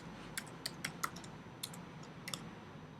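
Light keyboard typing while coding an iOS augmented reality app, a handful of quick separate clicks in two short bursts, faint and close, with no voices.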